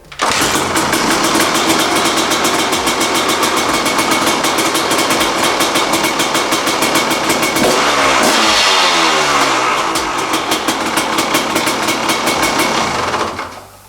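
A carbureted motorcycle engine kick-started cold on choke with no throttle catches at once and settles into a loud, steady, rapid idle that runs throughout, nearby and alone.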